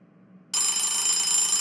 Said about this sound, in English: Bell is ringing.